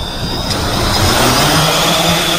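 A 3D Robotics drone hovers and flies close by with a loud, steady high-pitched buzz like a big mosquito, running continuously over a low rumble.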